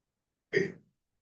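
A single short throat-clearing from students in a classroom, one brief rough rasp in otherwise silent surroundings.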